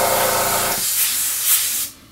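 Airbrush or spray paint hissing over an acrylic-painted Tiger I scale tank model, a close, steady rushing spray that thins to a softer hiss before stopping, with no voices.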